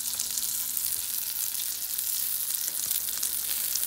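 Hot dogs fry in a pan with a steady, close hiss and sizzle. The crackle holds even throughout and no one talks over it.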